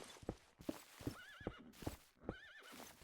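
Horses in the video game Folksgarde whinny twice with rising, wavering calls over a steady run of hoof clip-clops, clear and fairly close with no talk.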